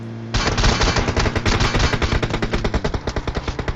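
Rapid automatic gunfire from enemy players in the battle-royale game PUBG Mobile rattles in a loud, steady stream of close shots that lasts almost four seconds with no talking.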